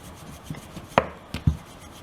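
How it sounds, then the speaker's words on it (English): Ball of paratha dough dusted in dry whole wheat flour being rolled out on a board, a few soft thumps and rubbing rolls spaced irregularly, close and quiet with no talk. "I'll toss this in dry whole wheat flour and roll this evenly"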